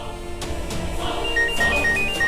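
A mobile phone rings with an incoming call, a bright melodic electronic ringtone repeating short beeping notes at moderate loudness with no talking over it.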